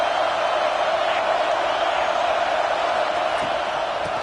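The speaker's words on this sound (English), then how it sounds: "Listen to the crowd energy here in the early going." A stadium crowd cheers in the NCAA 25 college football video game, a steady, dense roar held at an even level throughout.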